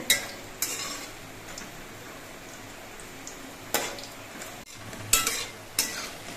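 Lentil and egg fritters fry in hot oil with a constant soft sizzle, punctuated by several sharp scrapes and clinks of a utensil against the pan.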